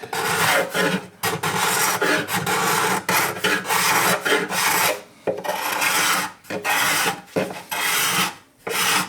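A rasp works glue off a basswood arm bevel on an acoustic guitar build, in repeated close, loud, coarse strokes with short pauses between bursts.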